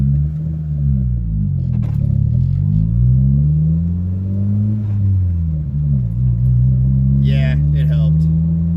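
A boosted Honda Civic EG idles close by in a steady, loud, deep rumble whose pitch wavers slightly up and down, with a brief hiss near the end.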